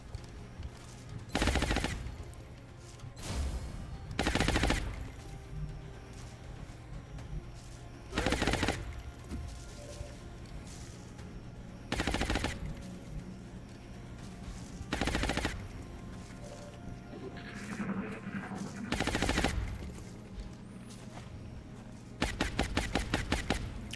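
Gunfire in XCOM Long War comes as separate loud bursts of automatic fire, about eight volleys spaced a few seconds apart over a quiet, humming background, with a last rapid stuttering run at the end.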